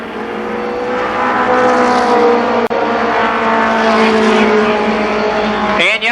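Stock race cars howl around Columbus Motor Speedway in a steady, loud roar of several engines at once, one sharp click cutting through partway, while an announcer talks over the racing.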